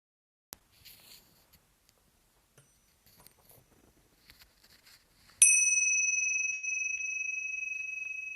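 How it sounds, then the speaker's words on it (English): A meditation bell is struck once after a quiet stretch of faint rustles and taps, and its clear, bright tone rings out close by and slowly fades. "And then at the sound of the bell, coming back to our shared space."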